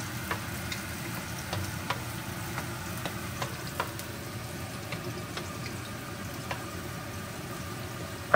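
Garlic for tinola fries in a pan with a steady close sizzle, broken by scattered sharp clicks and pops from stirring, all without speech.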